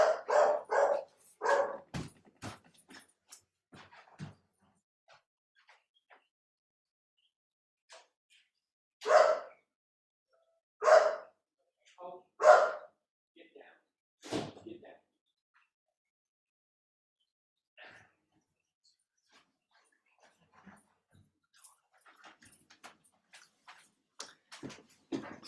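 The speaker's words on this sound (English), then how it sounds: "somebody came to my door and the dog went crazy" A household dog barks frantically at someone arriving at the front door, with loud bursts of barking in clusters separated by quiet gaps, some near and some fainter.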